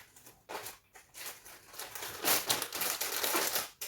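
Plastic food packaging for moldy store-bought products crinkles and rustles as it is packed back up, close-up, in several bursts growing steadier and louder over a few seconds.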